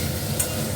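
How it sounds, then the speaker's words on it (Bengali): Fish frying in a pan, giving a steady, close hiss of sizzling oil with no voices over it. "এদিকে মাছগুলো ভাজতে দিয়ে দিচ্ছি, আর মাছগুলো না দেওয়ার সাথে সাথেই ফাটতে শুরু করে দেয়"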